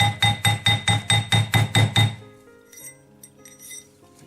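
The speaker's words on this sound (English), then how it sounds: "Now I'll get the ring perfectly round on my mandrel. I'm just using a nylon mallet." A nylon mallet taps a split ring on a steel mandrel in about nine even, ringing blows at a brisk rhythm, followed by softer scattered clinks and handling sounds.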